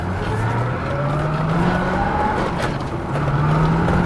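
A 1990 Corvette ZR1 engine driven around the block, a steady close-up drone with rising and falling engine pitch as it accelerates and shifts, heard from inside the car with no talk.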